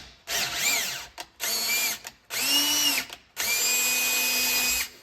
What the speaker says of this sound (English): I'm just going to run the tap through here